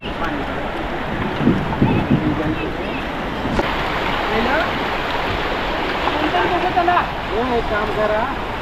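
A boat heads across open water to an island at Uttan with a steady rushing wash and engine-like rumble, while people talk intermittently over the noise.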